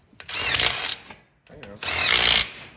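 A power tool gun on a Chevy K2500 shop truck build fires in two close, loud bursts, each a whirring, rattling whine lasting under a second, separated by a short pause.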